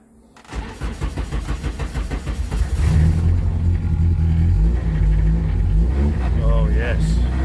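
A car engine with a freshly repaired cracked race exhaust manifold cranks and fires, settling into a loud, steady rumbling idle close by, with a voice briefly heard near the end.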